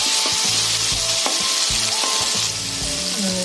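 Onions and ginger garlic paste fry in a pan for a chicken gravy curry, with loud continuous sizzling and repeated scraping clatter of a spoon stirring against the metal, no voices.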